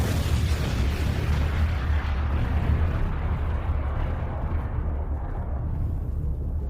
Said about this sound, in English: this deserves an explosion